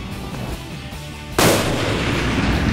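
One sharp, loud rifle shot fired at a 400-yard target cracks out mid-clip, then rings off in a lingering, decaying echo over steady background noise.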